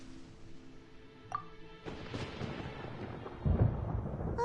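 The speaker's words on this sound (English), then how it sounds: "Paimon hears thunder!" Thunder rolling through a storm in the video game Genshin Impact, a sharp crack followed by a sustained, loud rumbling crash that swells toward the end, with no voices.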